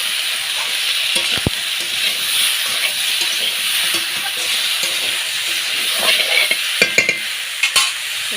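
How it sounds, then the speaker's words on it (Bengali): Salted vegetables sauté in a hot pan with a steady, moderately loud sizzle and hiss, broken by a few sharp spatula scrapes and clinks near the end; no one speaks. "এখানে দিয়ে দিয়েছি তোমার সবজিগুলো, আর উপরে একটু নুন ছড়িয়ে দিলাম। তো এটাকে কষতে হবে।"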